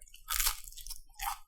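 Teeth bite into a toasted English muffin up close, producing a couple of sharp crunchy bites followed by quieter chewing crackles, with no voices during it.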